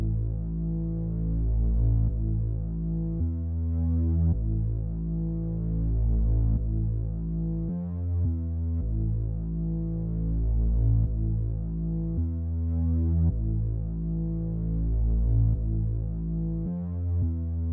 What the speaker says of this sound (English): Then for the last thing, which is the bass, I used this bass,